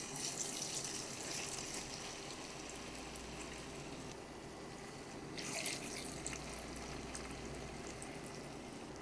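Potato laccha pakora frying in hot oil, a steady hiss and crackle of bubbling oil running throughout at moderate loudness, with a brief brighter sizzle burst partway through.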